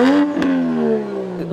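A high-pitched Varis widebody A90 Toyota Supra exhaust revs and whines, its tone sliding slowly downward, loud and close, with a brief clatter partway through.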